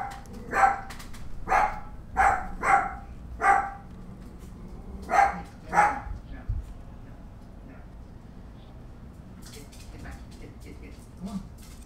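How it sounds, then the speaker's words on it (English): Several dogs bark in short bursts over the first six seconds, fairly close and loud, followed by quieter background sounds with a few faint yips near the end. "let me get my dogs quieted real quick"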